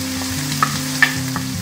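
Turmeric, chili, coriander and cumin powders frying with onion paste for a spicy chicken jhal bhuna, a loud close sizzle with a couple of quick scraping stirs of a spatula in the pan.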